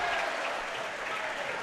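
A crowd at a varsity high school basketball game claps steadily in a dense, continuous wash of applause filling a gymnasium, loud and sustained throughout.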